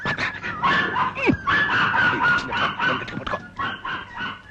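A dog barks and yelps repeatedly at close range, sharp agitated bursts coming in quick succession.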